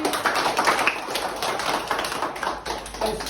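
A group of children claps together in a steady, dense patter of hand claps lasting a few seconds, fairly close and even in loudness.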